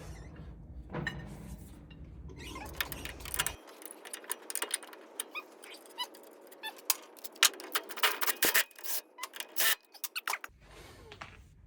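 Metal bolts being handled and sorted by hand during a coilover install on a Nissan LS13 Silvia, with a close run of irregular metallic clinks, jangles and scrapes, some louder rattles toward the end, no talking.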